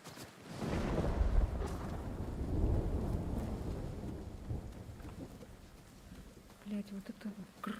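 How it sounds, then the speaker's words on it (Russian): Thunder rumbles loudly through steady rain in the video game Ghost of Tsushima, a long low roll peaking early and fading, with rain hiss throughout and a voice speaking briefly near the end. "вот это гром меня заебал уже"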